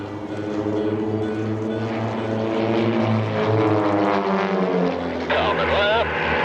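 Propeller aerobatic airplanes in tight formation at the EAA AirVenture airshow drone loudly overhead with shifting engine pitch, while an announcer talks over the public address.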